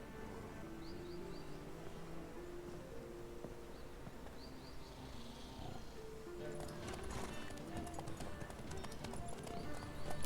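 Horse hooves clip-clop at a steady walking pace in The Witcher 3, soft and regular beneath a low musical backdrop, joined by sharper, louder hoofbeats near the end.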